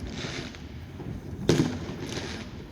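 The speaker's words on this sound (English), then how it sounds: "these fireworks are killing me" Fireworks go off during a protest outside HMP Bronzefield prison. A single sharp bang stands out midway over a steady outdoor background hiss, with fainter pops around it.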